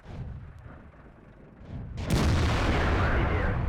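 Tank cannon fire in a tank battle video game, a quiet stretch of low rumble, then a loud booming blast that rolls on in a sustained roar.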